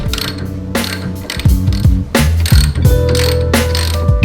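A ratchet wrench clicks rapidly and loudly up close while undoing the shock absorber bolts on a Harley Softail, in several quick back-and-forth strokes with metallic ringing from the bike.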